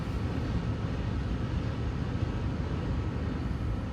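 A train rumbles past nearby, a dense, steady low roar with broad noise holding at even loudness throughout, no voices.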